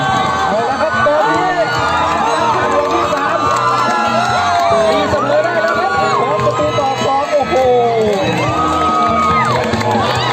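Football fans at a nine-a-side amateur cup match in Sakon Nakhon roar after an equalising goal, a loud, dense crowd of cheering, whooping and shouting voices that keeps up without pause.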